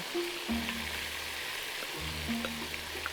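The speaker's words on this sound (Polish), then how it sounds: "Na podgrzany tłuszcz, na którym smażyły się bitki, trafiają teraz grzyby. Borowiki." Porcini mushrooms dropped into hot fat left from frying beef rolls sizzle steadily in the pan, with a low hum and faint stirring clicks, close and alone without talk.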